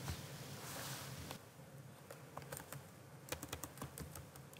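Keys clatter on a computer keyboard in quick, irregular bursts of faint, close clicks, with no other sound and no talk.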